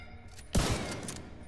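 A rocket launcher fires in The Division 2: a single loud blast bursts in near the middle and trails off into a rumbling tail.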